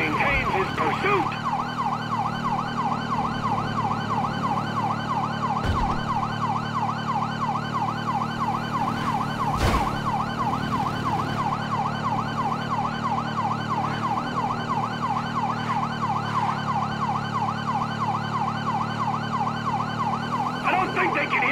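Wailing police car sirens in a pursuit in the video game Grand Theft Auto V cycle steadily and loudly over a low engine drone, with a couple of sharp knocks partway through.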